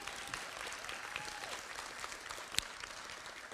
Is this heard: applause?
yes